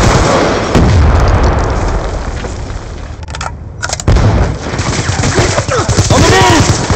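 A sticky grenade blast in Black Ops II rings out amid dense, continuous battlefield gunfire and booming explosions, with a brief lull near the middle before the loud fighting resumes.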